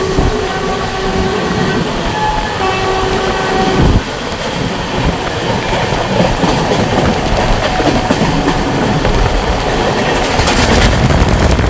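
The Sairang–Kolkata Tri-Weekly Express, train 13126, rumbles steadily along the rails on its first commercial run near Palashi, with a loud, continuous roar and clatter of wagons close by and no voices.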